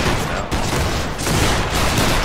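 A musket line volley in the video game Battle Grounds III sounds as a loud, close, rolling crackle of many overlapping shots, dense and sustained, with brief dips between ragged bursts.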